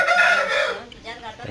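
A rooster crows in one bright, loud call lasting under a second, followed by softer clucking and faint farmyard noise, from a farm where roosters are raised and sold for sport fighting.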